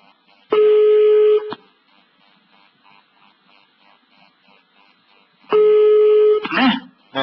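Two bursts of telephone tones on a line during a radio prank call, each a steady ringing or dialing tone about a second long, separated by quiet, with the second burst ending in a brief voice.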